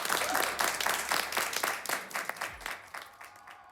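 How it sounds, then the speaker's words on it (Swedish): A live song-contest audience at Melodifestivalen 2025 gives a fairly distant round of applause, dense clapping that gradually fades over a few seconds. "en applåd"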